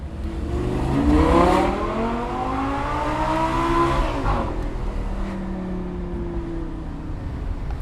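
A race car accelerates hard on a track, its loud engine roaring with rising and falling pitch sweeps as it passes close by, with no voices.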